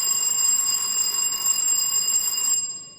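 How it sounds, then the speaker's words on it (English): A quiz contestant from Kumasi High School rings an answer bell at a school quiz competition, a sustained bright metallic ring lasting about two and a half seconds before quickly fading out. "May I hear your bell,"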